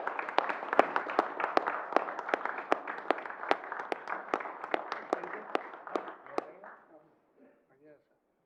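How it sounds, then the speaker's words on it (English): A small audience at a wildlife commission meeting gives a round of applause, with crisp, distinct claps that keep up for several seconds, then taper off and stop. "So you guys give me a round of applause."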